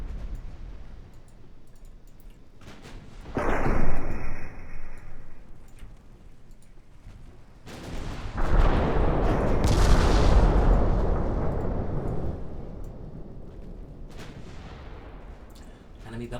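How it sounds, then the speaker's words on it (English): Battleship secondary guns fire in the naval strategy game Ultimate Admiral Dreadnoughts as a booming salvo, then a longer rumbling barrage that slowly fades, with a voice talking over the action. "And my secondary guns are opening up"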